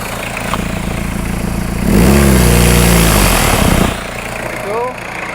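Peugeot 306 2.1 fitted with a new turbo, exhaust and manifold revs hard for about two seconds, the engine note climbing and falling loudly before dropping back to a steady idle.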